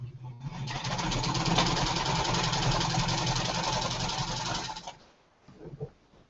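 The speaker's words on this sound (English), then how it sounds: "I sew these together." A sewing machine stitches quilt pieces together in a steady, rapid mechanical whir lasting about five seconds, close and fairly loud, then stops, followed by faint handling sounds.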